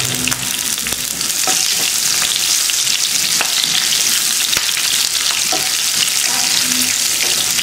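Loud, close, continuous sizzle of cumin, pepper, green chili, curry leaves and ginger frying in hot oil, with occasional crackles and light stirring scrapes throughout, and no talking.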